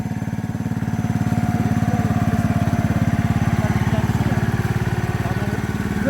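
A live steam hobby locomotive is throttled up, a steady rapid chuffing pulse that runs continuously, close and loud, with voices talking over it.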